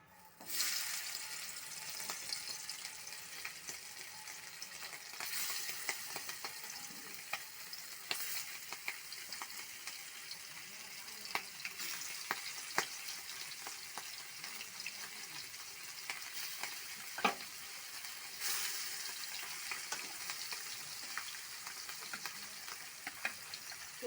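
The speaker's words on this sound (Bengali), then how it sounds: "এখানে গরম হয়ে গেছে এবার এতে আমি আস্তে আস্তে করে মাছগুলো ছেড়ে দেবো" Hilsa and bhola fish fry in hot oil with a continuous, close, crackling sizzle, broken by occasional sharper pops and clicks, and no voices throughout.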